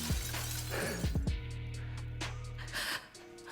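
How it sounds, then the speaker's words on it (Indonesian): Glass bridge panes shatter in a film scene, several sharp crashing bursts in quick succession over a droning low hum, followed by tinkling debris and a gasp, loud and close. "kaca-kaca pada meledak dan serpihannya mengenai Wo bahkan yang lainnya"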